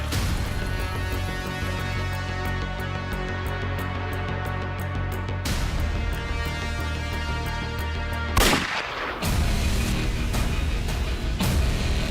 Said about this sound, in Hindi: गोली की आवाज सुनी